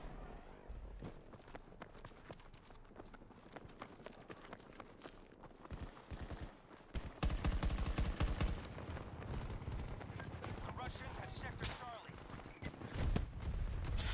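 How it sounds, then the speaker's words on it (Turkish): Gunfire from the shooter game Battlefield 2042 on Xbox Series X, scattered single shots early on giving way to dense bursts and rapid automatic fire from several directions, loud and crackling. "Sağdan soldan sıkıyorlar."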